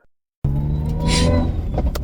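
After a brief silence, a Toyota Celica GT-Four ST205 road car's turbo engine rumbles loudly and steadily from inside the cabin, with a hissing rush building midway through.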